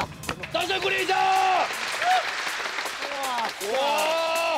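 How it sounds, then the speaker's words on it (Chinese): Studio audience applause on a Taiwanese variety show, steady clapping running under loud excited voices and exclamations from the hosts and guests. "掌声鼓励一下"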